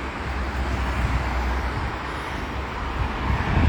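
Busy roadside traffic with many cars passing, a steady dense rumble and rush of engines and tires close by, with no talking over it.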